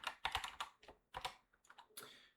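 Quick bursts of keystrokes on a computer keyboard, close and crisp, in uneven clusters with short pauses between them.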